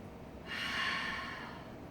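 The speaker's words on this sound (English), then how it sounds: "One more deep breath" A single deep breath during a yoga session, a soft airy exhale lasting about a second, close and fairly quiet, with no talking.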